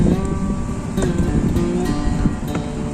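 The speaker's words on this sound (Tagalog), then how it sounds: "mahangin po ngayon dito sa Hong Kong" Gusty wind in Hong Kong buffets the microphone with a low, rumbling roar that rises and falls throughout, loud and close, with no talking.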